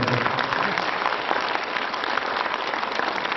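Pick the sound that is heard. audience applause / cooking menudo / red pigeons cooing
audience applause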